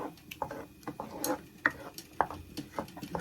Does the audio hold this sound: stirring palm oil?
yes